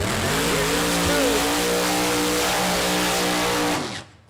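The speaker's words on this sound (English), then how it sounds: "Second round funny car qualifying underway under the lights at State Capitol Raceway" A funny car drag racer at State Capitol Raceway during night qualifying, its engine roaring loud and sustained with rising and falling pitch before cutting off abruptly, a commentator talking over it.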